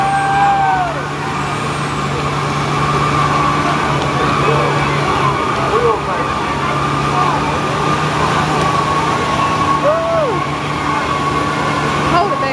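A Dodge diesel truck engine drones loud and steady at a truck pull at Cherokee Speedway, under crowd noise and people talking.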